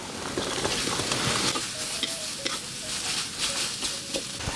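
Shiitake mushrooms and shredded cabbage stir-fried in a wok over medium heat, with a steady close sizzle, scraping stirs and occasional metallic clinks throughout.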